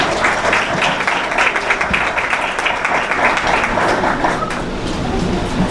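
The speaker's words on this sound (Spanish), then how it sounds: "Damos un fuerte aplauso a Rubén Alonso González" An audience at an institutional conference gives a speaker a round of applause, a thick, continuous rush of many hands clapping at close range with no voices over it.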